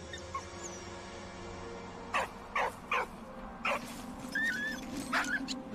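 A dog whimpering in the video game Valiant Hearts, several short whines and yips in a row over a steady low game background hum, with a faint bird-like warble near the end.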